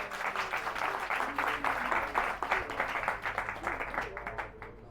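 A crowd claps at a Hindi devotional storytelling session: a sustained, even patter of many hands, fairly loud and close, fading slightly at the end.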